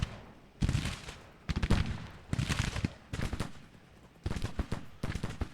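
Musket volleys crackle in repeated bursts across a Civil War battle near Bolivar in the strategy game Grand Tactician, dense rolling fire arriving in five or six waves with brief lulls between them, mid-distance and loud.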